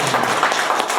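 A lecture audience gives loud, dense applause following a special talk by a former Minister of Justice at an anti-corruption academy class. The clapping is steady and close throughout the short burst.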